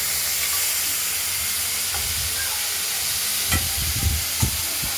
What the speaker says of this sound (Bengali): আমরা কচু আর ঝিঙেগুলোকে আরেকবার ঢাকা খুলে নেড়ে দিলাম।